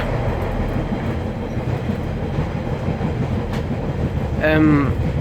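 A Northern Railway Class 142 diesel unit runs on rails toward Newcastle from MetroCentre, a steady rumble and clatter heard from inside, with a brief squeal or tonal whine rising near the end.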